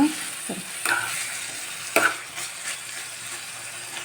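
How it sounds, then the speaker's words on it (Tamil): Mixed greens and paneer fry in a pan with a steady soft sizzle, broken by a few clanking stirs of a spoon, close up and with no talk. "கொஞ்சம் ஃப்ரை ஆன அப்புறம் ஆஃப் பண்ணிக்கலாம்"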